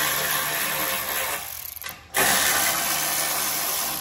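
Ratchet wrench working loose bolts on the muffler guard of an Ariens Deluxe 24 snow thrower, a steady close clicking that pauses briefly midway before resuming just as loud.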